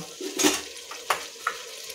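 Food stirred and frying in a pan while making Karnataka girmit, with soft sizzling and a few brief scraping clinks of a spoon against the pan, fairly close and without speech.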